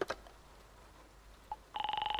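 A pub telephone in the noir adventure game Face Noir, with a couple of faint clicks followed by a loud, rapidly pulsing electronic telephone tone that starts near the end and continues, with no talking.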